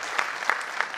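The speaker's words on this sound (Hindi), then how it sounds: "एक बार जोरदार तालियां हो जाए सर के लिए फिर से।" An audience at an evening talent celebration claps, a short burst of applause with a few distinct, sharper hand claps punctuating a softer wash, lasting about a second.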